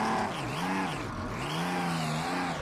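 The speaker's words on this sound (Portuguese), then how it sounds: "Olha o carro patinando na grama." Race car in Automobilista 2, lightened for racing, skidding across grass at Jacarepaguá: a loud, continuous engine note rising and falling in pitch as the car slides, with rough tire and surface noise underneath and no voices.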